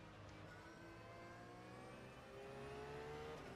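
A Porsche 911 GT3 R engine revs on the Mills Metropark circuit in the rFactor sim, a steady mechanical drone with rising harmonic whines that grows slightly louder near the end, fairly faint.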